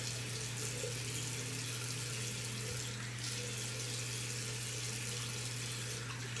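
Cold water runs steadily from a bathroom tap during a wet shave, a continuous close splashing rush that holds at an even level throughout with no talking.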